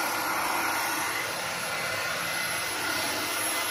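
Greenworks stick vacuum motor running at high speed, a steady, dense whooshing whine heard close and alone without any talk.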